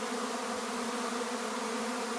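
A May swarm of bees gives off a thick, unbroken buzzing drone, near and even in loudness, with no one talking for about two seconds.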